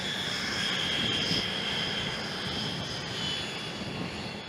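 An X-47B unmanned stealth flying-wing aircraft gives a steady, moderately loud engine roar with a high whine, sustained for several seconds without voices.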